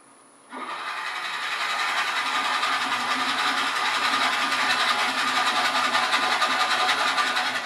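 A drill boring into Bradford pear wood on a lathe while rough turning an urn starts abruptly after a brief silence, then runs as a steady, close, buzzing whir with a fine rapid chatter, continuing without a break.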